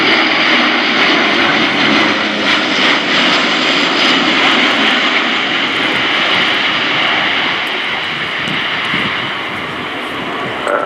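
Airbus A400M Atlas military transport flying a 60-degree bank turn during an airshow display at RIAT, a loud, sustained propeller and engine roar that fades slightly toward the end, with no talk.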